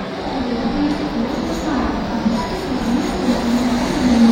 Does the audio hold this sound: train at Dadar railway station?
yes